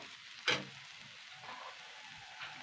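Ginger-garlic paste frying with potatoes in a pan, a faint low sizzle marked by one sharp clatter of stirring early on and quieter spoon scrapes afterward.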